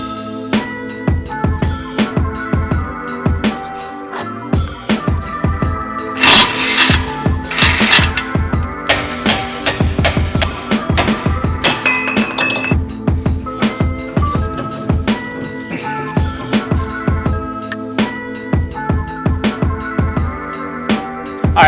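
Repeated metal-on-metal hammer strikes drive a pickle fork to separate a stuck tie rod end on a '92 Honda Civic, loud, close, ringing clanks in an uneven rhythm that runs throughout.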